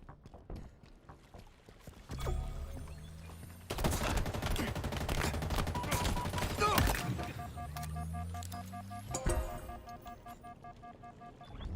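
Gunfire in Halo Infinite multiplayer: bursts of automatic weapon fire rattle in dense clusters, with quieter stretches between and mechanical game effects around them, moderately loud amid the match din.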